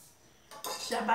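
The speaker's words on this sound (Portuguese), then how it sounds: "Bater até nossos ovos ficar bem clarinho" Eggs, sugar and margarine are beaten in a bowl: a close, rapid scraping clatter of a utensil against the bowl that starts quietly and grows louder and busier.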